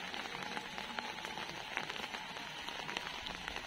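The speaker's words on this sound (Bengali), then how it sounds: "এখন অন্ধকার হয়ে গেছে, বৃষ্টিও পড়ছে সঙ্গে" Steady evening rain patters on a surface at Chilkigarh palace in Jhargram, a soft, even hiss with scattered drip taps, fairly quiet and with no voices.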